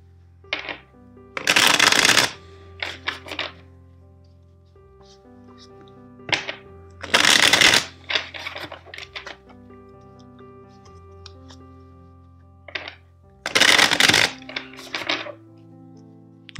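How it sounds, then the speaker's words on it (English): Three bursts of a deck of tarot cards being riffle-shuffled, each a few seconds long, with soft taps and card handling between them. No one speaks. "let's shuffle the deck 4 times for you"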